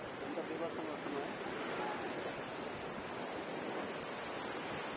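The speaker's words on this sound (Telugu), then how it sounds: "చూడొచ్చు అలలు ఎంత బీభత్సంగా వస్తున్నాయి" Rough ocean waves crash on the beach at Puri, a dense continuous roar of surf with wind buffeting the microphone, steady throughout with no clear separate breakers.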